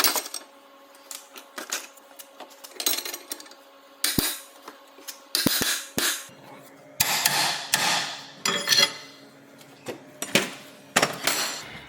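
A spanner tightens the rear wheel bearing nut on a VW Amarok with the half shaft removed, close and metallic: a series of sharp clanks and ratcheting clicks in irregular bursts, some loud, with quiet gaps between.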